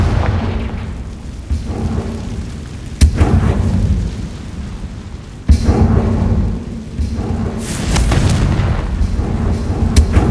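A Confringo blasting spell in the Hogwarts Legacy video game sets off deep booming explosions, loud and close, with several sharp impacts and rumbling tails layered over a steady background roar.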